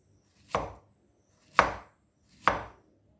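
Plantain being cut with a cutter, giving three separate, fairly loud chopping thuds at an uneven pace, with quiet gaps between them.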